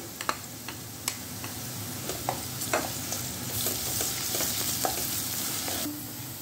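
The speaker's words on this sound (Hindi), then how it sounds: "अब हम इसमें लहसुन अदरक का पेस्ट शामिल कर देते हैं।" Sliced onions frying in oil in a cooking pot with garlic ginger paste for chickpea pulao, giving a steady close sizzle with scattered clicks and taps of a stirring spoon, no talking.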